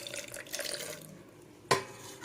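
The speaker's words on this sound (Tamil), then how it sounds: "அரிசி ஊற வச்ச அந்த தண்ணியே ஊற்றிக்கலாம்." Soaking water from rice pours briefly into a mixer jar, a gurgling splash that fades, followed by a single sharp clink of a vessel.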